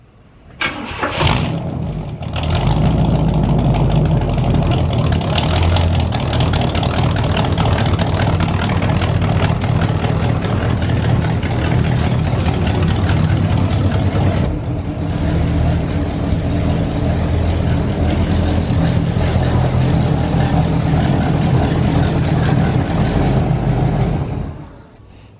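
A Chevrolet Catalina's engine cranks and starts, then runs steadily and loudly for over twenty seconds with a deep, rumbling idle as the car is moved, ahead of repairs to an exhaust leak.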